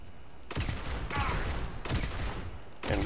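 Enemy gunfire rattles in a video game, with dense bursts of rapid automatic shots in three or four loud clusters separated by brief quieter gaps.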